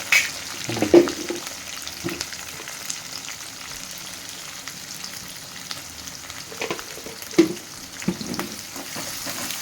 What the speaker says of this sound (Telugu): రెండు పచ్చిమిరపకాయలు రెండు ఉల్లిగడ్డలండి మంచిగా ఫ్రై చేసుకోవాలి